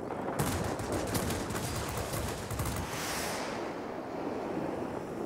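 Rapid bursts of automatic aircraft cannon fire in the video game World of Warplanes (P.1056) over a dense roaring rush, loud and continuous, fading into a steady engine-like drone near the end.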